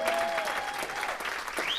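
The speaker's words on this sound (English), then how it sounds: "Let's give Mel a tremendous round of applause." An audience at a motivational speaking event breaks into steady, dense applause, a continuous wash of clapping with no voices over it.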